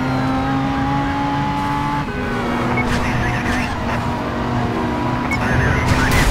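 A car engine drones steadily while driving in the video game Driver San Francisco, with shifting revs, brief tire squeals and a passing vehicle, loud and continuous throughout.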